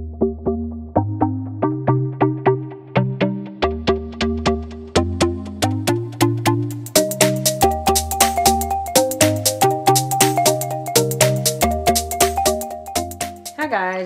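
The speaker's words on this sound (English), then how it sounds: "I don't know if you guys can hear my phone ringing in the background" A phone ringtone plays a bright, repeating melodic chime pattern of rising and falling notes, loud and close, continuing steadily for the whole stretch with no talking.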